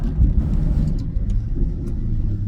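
A Maserati GranTurismo S fitted with sport catalytic converters and silencers revs loudly up close, its deep rumbling engine note sustained and throaty throughout, with no talking.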